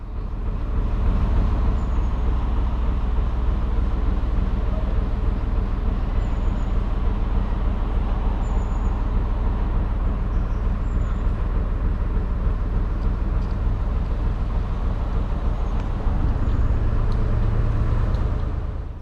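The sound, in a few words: road traffic noise from busy roads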